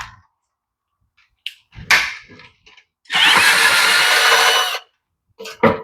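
A power tool with an 8mm socket spins a bolt off a Predator 212 engine on a Coleman CT100 minikart, one loud sustained whir lasting about two seconds, bracketed by brief clanks and handling noises in a quiet shop.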